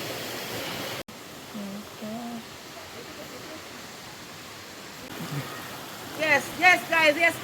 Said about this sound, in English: you also have a water that's coming out of the hills that shoots out that water and a piece of bamboo